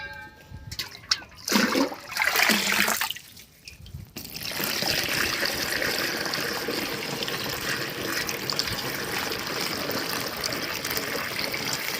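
Water from a motor pump gushes steadily into a farm field, a continuous close rushing wash that takes over after a few seconds of quieter, uneven sounds.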